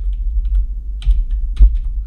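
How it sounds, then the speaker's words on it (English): Computer keyboard keys pressed during vMix GT Title Designer work, likely arrow keys: a few soft, separate clicks close by, spaced irregularly with no one talking. "I can use my arrow keys on the keyboard to adjust it"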